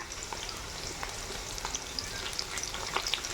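Curry leaves and coarse salt crackle and sizzle in hot oil for a village-style fish curry with tender tamarind leaves, a steady dense frying hiss dotted with sharp pops, close and moderately loud, with no talking.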